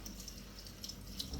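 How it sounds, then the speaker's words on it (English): Tap water runs steadily into a sink while cabbage that was soaked in salt water is rinsed, a faint continuous splashing with light irregular spatters and no talking. "I'm gonna just rinse it off"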